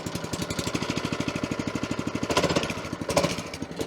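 A Camon LS42 scarifier's small engine runs close by with a rapid, even chugging pulse that roughens toward the end, and no one speaks.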